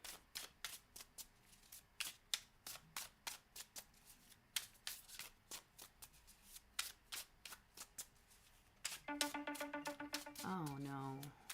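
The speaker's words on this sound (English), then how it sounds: "Then we're going to shuffle" Oracle cards being shuffled by hand, a long run of quick crisp riffling flicks in an irregular rhythm, close and fairly quiet, with a brief tonal chime near the end.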